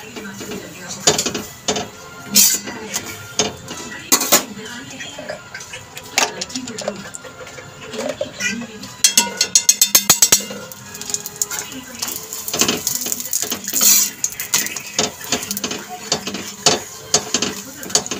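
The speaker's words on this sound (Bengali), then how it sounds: "চাটুটা এই দিকের গ্যাসে বসালে না এইভাবে আওয়াজ হয়," A tawa griddle rattling and clattering on a gas stove burner, with irregular knocks and a fast run of rapid taps, while people talk nearby.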